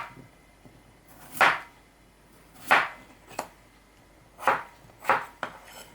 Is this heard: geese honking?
no